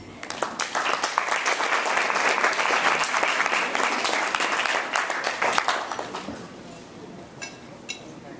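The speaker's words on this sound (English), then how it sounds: "please join me in a round of applause for people who have supported you" An audience of athletes and guests at an evening keynote breaks into loud, dense applause that holds steady for several seconds, then thins out into a few scattered claps.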